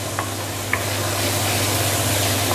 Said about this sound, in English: you need to keep on stirring the bottom